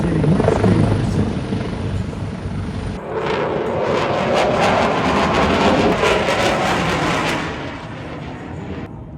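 A 139 helicopter at the Malta air show passes loudly overhead, its rotor chopping in a steady pulse over a broad roar, with the sound shifting midway and fading slightly at the end.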